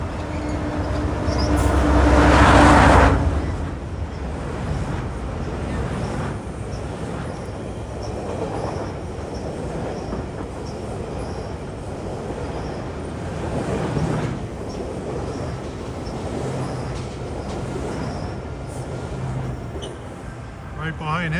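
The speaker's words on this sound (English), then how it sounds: "445, here comes a train in from Aldershot" A commuter train coming in from Aldershot gives a steady, heavy rumble with wheel and track noise that swells and fades over a long stretch, heard from a nearby loft. Someone talks at times over the train.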